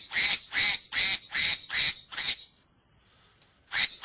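Ducks quack in a quick run of six loud, evenly spaced calls, then a short quiet pause before one more quack, with no talking.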